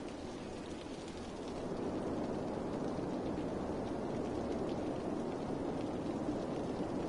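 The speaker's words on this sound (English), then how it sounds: "And here comes the rain, of course." Steady, dense rain hisses continuously in the city-building game Cities: Skylines, swelling slightly after the first second and then holding even and loud throughout, with no talking.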